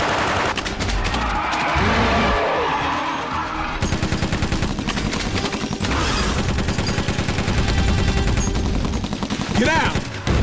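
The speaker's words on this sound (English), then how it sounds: "Stop praying and start shooting. These bullets ain't doing nothing." Rapid machine-gun bursts and gunfire from an old action monster film about a dinosaur battling a giant crocodile, loud and sustained under intermittent shouting voices and effects.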